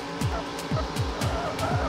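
Car wheelspin from the PS1 racing game 5 Star Racing: repeated engine revs swooping down in pitch, about five in quick succession, steady and fairly loud over a continuous game engine drone with no talking.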